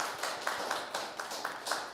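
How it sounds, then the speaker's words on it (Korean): Congregation clapping in a church service in praise of God, heard as a fairly faint, rhythmic series of claps at a steady beat. "우리의 찬양과 기도를 받은 하나님께 영광의 박수 올려드리겠습니다"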